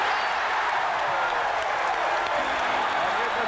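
An excited sellout crowd of over 11,000 at a 1981 Bucks versus 76ers playoff basketball game in the arena, a sustained loud roar with applause, unbroken from start to finish.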